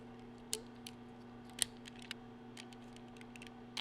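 Small plastic clicks from folding the wings of a Transformers toy, a handful of sharp isolated ticks spaced irregularly over a steady low hum, close and quiet, no voices.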